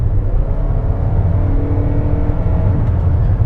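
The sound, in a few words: 2021 Toyota Venza LE Hybrid accelerating at full throttle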